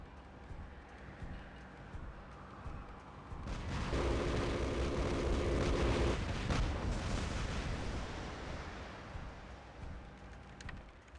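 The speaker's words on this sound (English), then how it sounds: "you can see all those Orkans being fired" Orkan missiles from robots in War Robots launch in a heavy, rumbling barrage that swells for a few seconds and then fades back into a steady background of battle noise.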